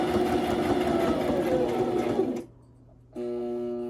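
A sewing machine stitches embellishments onto a page, running with a steady loud whir, then stopping briefly before starting again with a smoother hum.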